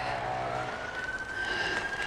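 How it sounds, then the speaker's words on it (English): A distant emergency siren in London, a drawn-out wailing tone that rises in pitch, heard faintly over outdoor ambience in a shady country park with oak and willow trees. "Ever-present sirens letting you know that you're still in London."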